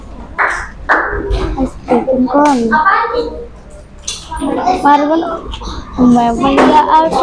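A classroom ice-breaking clapping game, with rhythmic group hand claps in short bursts between children's and a teacher's chanted voices.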